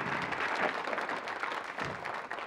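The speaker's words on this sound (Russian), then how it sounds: "аплодисменты, которые сейчас прозвучали в ваш адрес" A studio audience applauds on a 1999 Russian Lotto televised draw, a steady, moderately loud wash of clapping throughout with no talk.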